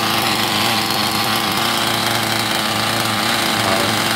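A Scuderia 7 port model engine runs after starting, a loud, close, continuous high-pitched buzzing drone that holds steady throughout with no talking.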